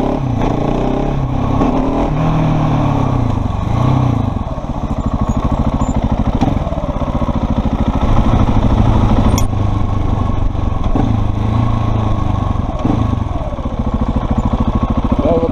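KTM 690 SMC single-cylinder supermoto motorcycle being ridden, its engine droning steadily throughout with rhythmic throttle changes, close and loud, with no talk over it.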